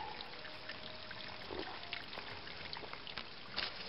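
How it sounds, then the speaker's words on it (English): A mountain stream runs and trickles steadily nearby on the Appalachian Trail, a continuous splashing flow with small bubbling accents and no voices. "Got your clean mountain water coming down."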